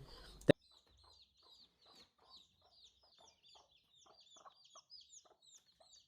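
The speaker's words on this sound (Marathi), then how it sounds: "आपण गावरान कोंबड्यांना नेऊन ठेवूया" Free-range village chickens cluck softly and repeatedly in short, scattered bursts after a sharp knock at the start, fairly quiet with no talking.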